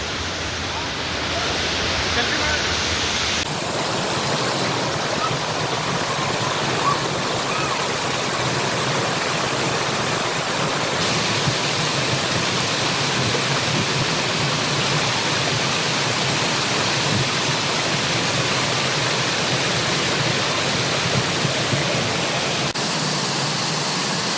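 The waterfall at Langvoku in Karbi Anglong roars as a loud, steady broadband rush of falling water that fills the whole stretch, with faint voices mixed in under it.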